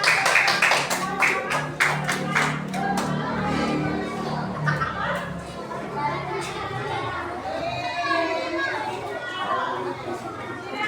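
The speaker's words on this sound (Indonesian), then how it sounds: "tepuk tangan untuk 3 kali teman kalian yang ada di sini" Schoolchildren in a classroom clap in a short burst of sharp, rapid claps near the start, then lively chatter and children's voices carry on over a noisy room.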